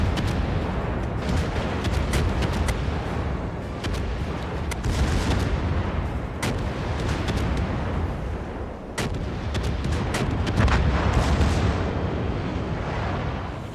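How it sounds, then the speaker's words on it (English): Naval guns on World of Warships warships fire repeatedly in World of Warships, heavy booming salvos and rapid blasts following one another in a dense, continuous barrage, loud and close, with no voices. "rate of fire on that Minotaur is just withering."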